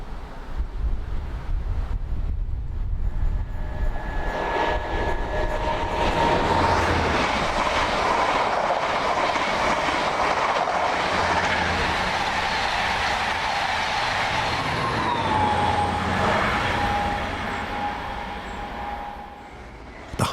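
An HST high-speed diesel train runs along a Great Western Railway line, a loud continuous roar of engine and wheels lasting the whole stretch, with wind buffeting the microphone and a faint rhythmic rail clatter.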